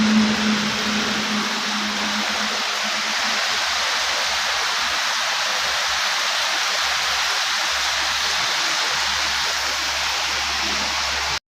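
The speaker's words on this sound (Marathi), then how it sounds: "पाऊस आला आहे भावानं." Rain falling steadily, a continuous broad rushing hiss at even loudness throughout with a faint low hum in places, ending abruptly.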